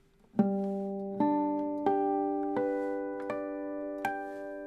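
Guitar harmonics plucked one string at a time across a chord, six distinct bell-like chimes in an unhurried sequence, each ringing on and overlapping the last, close and alone.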